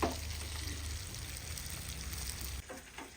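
Curry leaves fry in hot oil in a pan with a steady, close hiss and sizzle that eases slightly partway through, with no talking.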